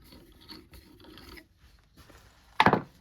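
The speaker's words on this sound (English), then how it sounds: "I've just got to deburr it, clean it up where we need it" A tapped hole in a metal motorcycle rearset being deburred and cleaned by hand, with soft light scraping followed by one short, sharp rasping burst close up.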